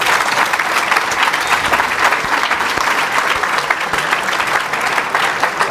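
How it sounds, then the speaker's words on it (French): An audience at a round-table talk at Ircom claps in steady, dense applause for several seconds, with no one speaking over it. "On peut les applaudir."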